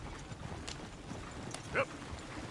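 Horse hooves clip-clopping in a cowboy video game, a faint, steady patter of steps under a low background bed, with one brief brighter call standing out near the end.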